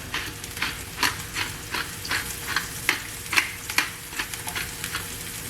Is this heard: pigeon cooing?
no